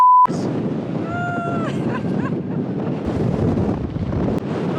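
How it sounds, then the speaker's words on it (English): Wind buffeting a microphone on an exposed hill, a rough continuous roar that fills the recording after a brief tone at the start, with a faint high whistling sound at one point. "It's really windy"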